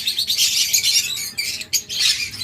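Cage birds at a bird sale, opaline budgerigar pairs among them, chirping and tweeting in quick overlapping bursts close by with brief pauses, no voices.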